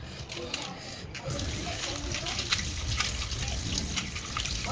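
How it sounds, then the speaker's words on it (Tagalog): Tap water runs steadily into a sink while a spoon is washed by hand, with faint clinks and splashes close by and no talking. "naghuhugas ako ng kutsara"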